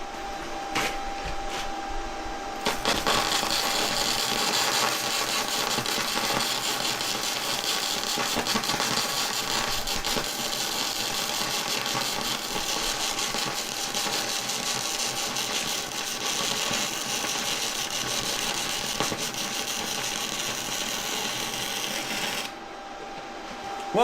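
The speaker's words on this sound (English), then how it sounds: "it was pulsing a little bit there, but it smoothed out and did a perfect weld at the end there" An ANDELI MIG 135 PLUS welder lays a MIG bead in one long, steady crackling buzz of about twenty seconds, loud and close, with slight pulsing before it evens out, then it cuts off abruptly.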